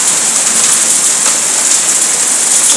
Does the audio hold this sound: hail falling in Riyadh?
yes